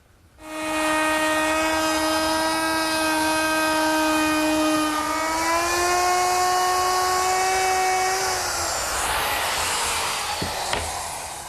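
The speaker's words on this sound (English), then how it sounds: "the back edge of the top has a rabbet to receive the plywood. We'll make that with a router." A router cutting a rabbet along the back edge of a mesquite bookcase top: a loud, steady high whine that spins up, drops pitch as the bit loads into the wood, then winds down.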